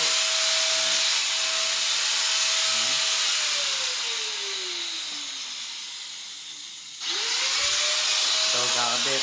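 Grinder cutting a hole for a window-type air conditioner installation, a loud steady whine that slowly drops in pitch under load, pauses, then spins back up, with someone talking intermittently nearby.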